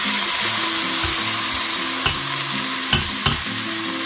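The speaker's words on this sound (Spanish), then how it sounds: "y le ponemos el agua." Paprika and oil sizzle in a pan as water goes in, a steady broad frying hiss with a few sharp spits and pops, close and loud, no voices.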